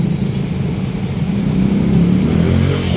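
Road traffic at the Baesa corner intersection, a continuous low rumble of car and motorcycle engines idling and pulling away at close range, with no voices.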